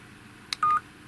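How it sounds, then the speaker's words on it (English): Electronic warning beeps from a Vantrue E1 dash cam: a short high blip followed by a sustained steady tone lasting under a second, clear and close in a quiet room. "Warning tone."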